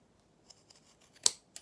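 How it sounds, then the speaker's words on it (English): Pinking shears trim the curved edge of fabric for a sewn toy donkey. Several soft snips build to one crisp, loud close cut, and a final snip follows in quiet surroundings. "just take a little bit of this bulk out just by using my pinking shears on the edge"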